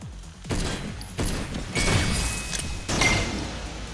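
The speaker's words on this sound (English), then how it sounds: "Get our DMR out. Couple of shots." Several heavy DMR rifle shots in the game Synthetik 2 ring out one by one, each a loud booming crack followed by a decaying tail.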